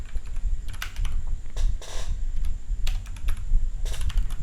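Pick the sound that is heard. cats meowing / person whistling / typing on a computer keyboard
typing on a computer keyboard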